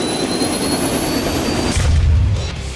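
Jet engine of a Westland Wyvern fighter aircraft in a video game, a loud steady roar with a high whine that swells into a deeper rumbling surge near the end.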